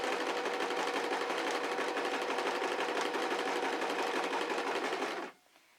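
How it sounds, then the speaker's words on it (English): Sewing machine stitching while hemming pants, a fast steady mechanical whir with rapid needle ticking, close and even for about five seconds before stopping abruptly. "I'm just pressing on the foot pedal to make the needle"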